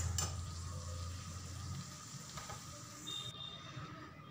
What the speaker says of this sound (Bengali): এইবার হাই ফ্লেমে কিছুক্ষণ নাড়াচাড়া করে জলটা একটু শুকিয়ে নিতে হবে।